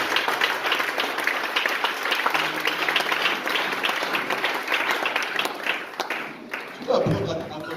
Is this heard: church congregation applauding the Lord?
yes